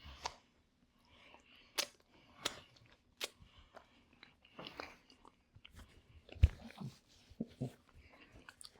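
Stuffed pasta shotgun shells with crunchy edges are chewed close to the mic in soft, irregular crunchy bites, with quiet pauses between them.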